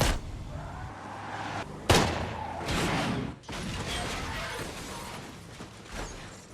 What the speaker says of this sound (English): He shoots the driver and causes their van to crash.